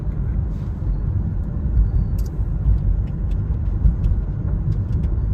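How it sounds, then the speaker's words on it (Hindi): A car drives along a road covered in small stones near Lake Minnewanka in Banff, the tyres rumbling steadily inside the cabin while scattered sharp ticks of pebbles strike the body again and again. "इस रोड पे पत्थर बहुत ज्यादा है ना, छोटे छोटे पत्थर हैं, गाड़ी को लग रहे हैं बार बार।"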